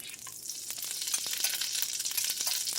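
Onions fry in a hot cast iron skillet, caramelizing to a dark brown. A bright, crackling sizzle builds and holds steady, dotted with fine pops and a few stirring scrapes.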